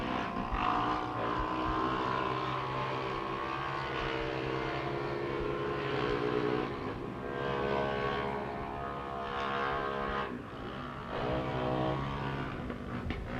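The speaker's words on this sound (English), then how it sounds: "You can hear Blaine Proctor's car out there, a little different sound coming from it. I'm wondering if he's having exhaust problems" Steady, droning race car engine from a race with a possible exhaust fault, heard from a distance as a continuous engine roar rising and falling slightly, with no voices over it.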